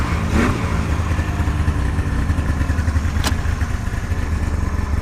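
An old Ski-Doo Grand Touring snowmobile engine idles steadily after sitting all summer, a loud, close two-stroke burble with a rapid even putter and a brief sharp click near the end.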